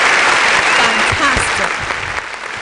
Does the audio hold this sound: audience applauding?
yes